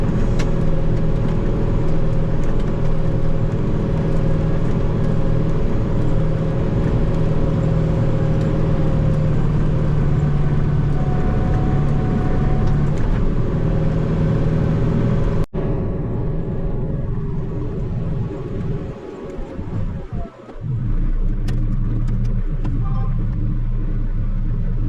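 A rental tractor runs while grooming, its engine a steady low rumble with a droning hum. Midway the sound drops off abruptly, leaving quieter rumbling, a couple of dull knocks, and a brief dip before the engine noise returns.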